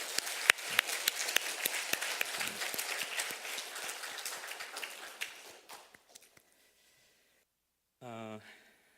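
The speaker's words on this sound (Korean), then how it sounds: "박수 한번" Church congregation applauding during a Sunday service, a dense patter of clapping for about six seconds that tapers off, followed by a brief tonal musical sound.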